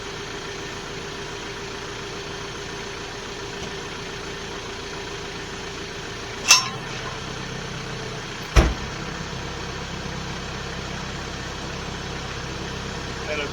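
A TYM tractor engine idles with a low, steady hum, broken by two sharp clicks or clunks; someone talks briefly.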